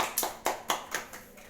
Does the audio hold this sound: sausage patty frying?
no